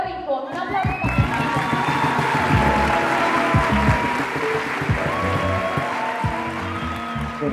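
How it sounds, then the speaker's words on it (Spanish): Audience applause for a guest on a Spanish-language talk show, steady clapping with some cheering and crowd noise, voices and talk audible throughout underneath. "Un aplauso para él."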